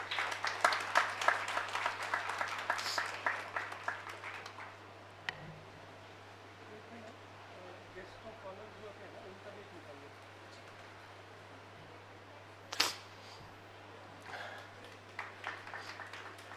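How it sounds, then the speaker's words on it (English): Audience at a breast cancer screening and awareness drive claps warmly at first, the applause fading to quiet room noise before a few scattered claps return near the end. "Give him a warm applause, please."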